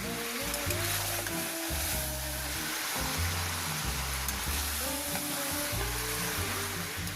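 Chicken pieces for biryani frying in a pan, a loud, steady sizzle with stirring scrapes running throughout, close up and with no talking.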